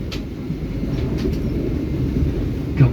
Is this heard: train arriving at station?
yes